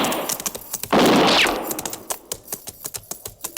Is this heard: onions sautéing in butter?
no